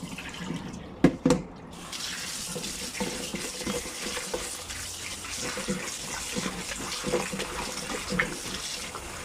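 Tap water running into a sink while raw chicken feet are washed for a traditional Filipino dish: a steady, close splashing stream with a few clattering knocks near the start and occasional sloshes of handling.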